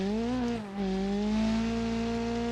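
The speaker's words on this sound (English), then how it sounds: "Oh, it's a little inline 4" A small inline-4 car engine in BeamNG hums at a steady, fairly loud idle-to-cruise pitch, dipping briefly as if shifting or lifting off, then settling back into an even drone with no talk.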